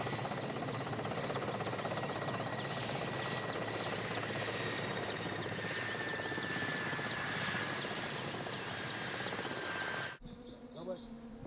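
A helicopter near Klyuchevskaya volcano drones steadily with a buzzing rotor and engine whine, loud and continuous before cutting off abruptly near the end.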